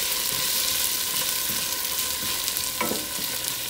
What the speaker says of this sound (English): Our onions are starting to get a little soft.